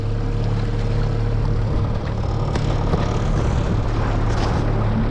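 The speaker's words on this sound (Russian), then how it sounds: "Никогда раньше я не ездил на таком моторе, на четырехтактном." A four-stroke outboard motor on a boat runs steadily and fairly loud, a constant low engine drone with water and wind noise, no voices.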